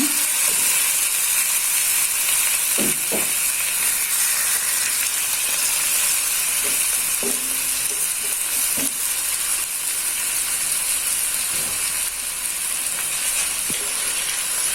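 Chicken frying in hot oil with a loud, constant bubbling sizzle, occasional clinks of utensils now and then over the steady crackle.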